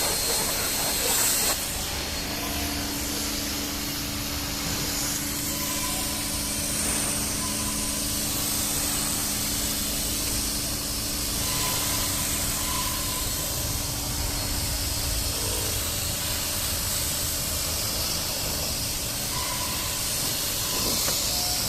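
A Bosch UniversalAquatak 36V cordless pressure washer sprays water in a steady, loud, continuous hiss that runs the full length without pause, with no talking.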